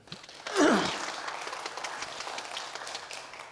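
A church congregation applauds a teacher at a Sunday service, clapping softly and steadily across the room for several seconds after a short vocal sigh or exclamation.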